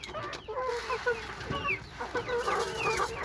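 White cock chickens cluck steadily and close by while pecking at feed of paddy, wheat and rice, with soft overlapping calls and no talking.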